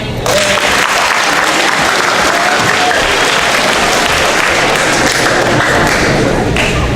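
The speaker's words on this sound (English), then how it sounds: "please hold your applause so we can keep this meeting going" A crowd at a student vote assembly claps after candidates are introduced, loud sustained applause with scattered hard taps and thumps, continuing steadily for several seconds.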